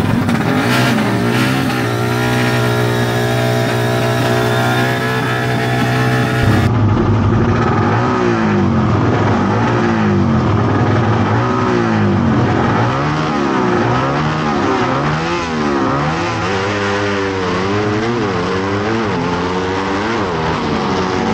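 Pushrod drag race cars at a legal drag race roar close and loud as they accelerate, with engines revving and pitch sweeping up repeatedly through gear changes over about twenty seconds.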